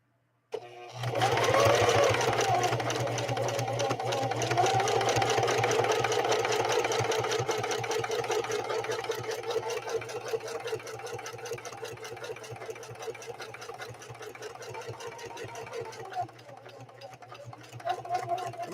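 A Singer 4411 heavy-duty sewing machine runs steadily and loudly on its own, a continuous mechanical whir with a low hum, easing slightly toward the end before a brief pause and restart.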